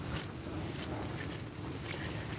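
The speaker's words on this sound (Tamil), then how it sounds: "சரியான கொஞ்சம் காற்று கொஞ்சம் பலமாக" Strong wind roars steadily outdoors at a Mullivaikkal Maaveerar Naal remembrance gathering in Tamil Nadu's region, a dense, continuous rush of buffeting gusts against the microphone with no clear voices.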